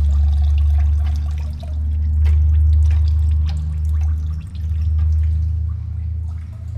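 Fluid slowly drains from a Subaru BRZ engine, trickling and dripping with a steady low rumble underneath, close and fairly loud throughout.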